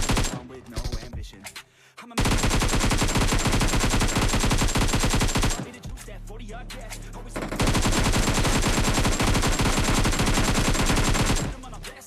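Rapid automatic gunfire in the mobile game PUBG Mobile while shooting targets, loud sustained bursts with a brief pause between two long strings of shots.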